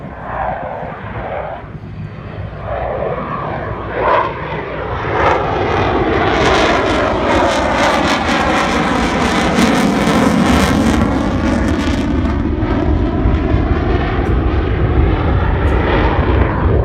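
A loud aircraft drones steadily overhead during a NORAD intercept demonstration at an airshow, its engine roar swelling and holding as it passes close by, continuous and unbroken for the whole stretch.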